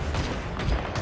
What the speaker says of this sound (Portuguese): deu um tiro nele